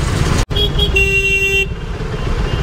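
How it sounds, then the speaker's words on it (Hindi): A vehicle horn honks on an open road, a short toot then a longer held blast, over loud rushing wind and engine noise from a moving vehicle. "आगे खाली रोड है, फिर भी हॉर्न बजाना पड़ता है यार"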